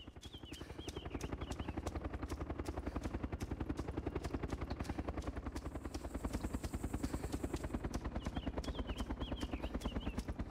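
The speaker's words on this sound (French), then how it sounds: "Mais il est où l'hélico en fait?" A helicopter in the survival game DayZ Epoch on the Napf map thuds along with a fast, even rotor chop, loud and continuous throughout with no talk.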